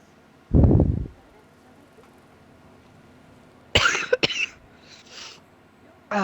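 A single heavy cough near the start, then a few sharp throat-clearing coughs and hacks a few seconds later, close to the microphone.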